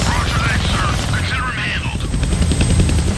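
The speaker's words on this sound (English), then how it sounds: "Damn, they found the helicopter's on switch." Helicopter in the Deadpool video game, a steady loud rotor and engine drone throughout, with a voice talking over it early on.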